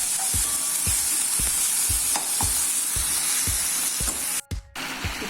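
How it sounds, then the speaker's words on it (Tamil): Onions sautéing with a little salt in a pan for a Tamil vatha kuzhambu: a steady loud sizzle with regular knocking stirs, a brief break near the end, no voices. "நல்ல சுருளை வதங்கி வரணும்."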